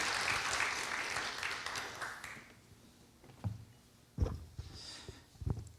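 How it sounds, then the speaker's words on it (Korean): An audience applauds at a Catholic book concert for a priest's new book, a dense burst of clapping that fades out after about two seconds, followed by a few scattered taps and knocks. "한민태 신부님께 큰 박수를 보내며"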